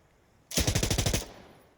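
A machine gun fired without its bipod in Insurgency Sandstorm: a single loud, close burst of about ten rapid shots lasting under a second, followed by a fading echo.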